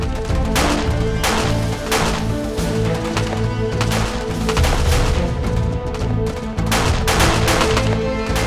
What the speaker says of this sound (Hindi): लॉन्चर तैयार करो, उड़ा दो इन सबको,